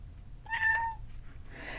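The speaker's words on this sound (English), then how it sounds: "if you hear meowing in the background, that is my cat Garnet." A pet cat named Garnet gives a single drawn-out meow, fairly close but soft, over a low steady background hum with no talking.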